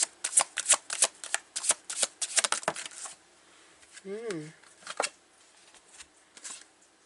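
A tarot deck is shuffled by hand in several quick riffling bursts of crisp card flutter, close and fairly quiet, then a pause with a brief murmur before one last short shuffle.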